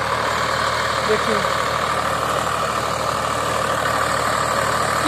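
A tractor ploughs a field being prepared for sugarcane planting, its engine droning steadily and loudly throughout while someone speaks over it.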